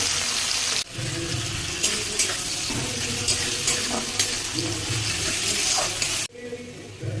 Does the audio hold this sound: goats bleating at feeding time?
no